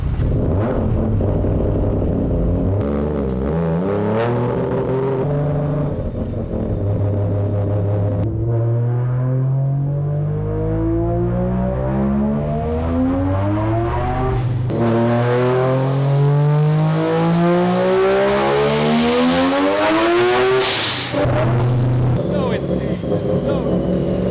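A three-rotor Mazda RX-7 running 25 psi of boost on a dyno screams loudly through long rising rev sweeps past 8,000 RPM, dropping back between pulls, with someone talking over it.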